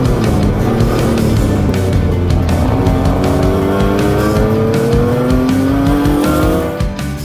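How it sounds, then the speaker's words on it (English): Racing cars circle a track together in a handicap race, a loud continuous roar of several engines with rising and falling pitch as cars pass close by, alone without talk. "to have a lot of different cars all racing on the same track at the same time"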